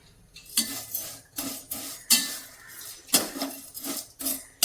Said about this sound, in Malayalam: സേമിയ വറുക്കട്ടോ.